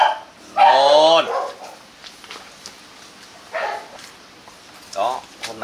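A litter of six Rottweiler puppies barks and yips nearby, with one loud bark followed by several shorter, fainter yelps spaced apart.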